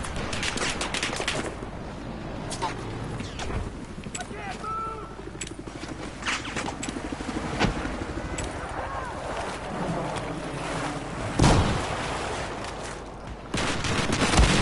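Gunfire in Battlefield 4 multiplayer on PS4 Pro: rapid bursts and cracks of shots over a constant rush of wind and vehicle rumble, with sharper blasts standing out near the end and voices at times.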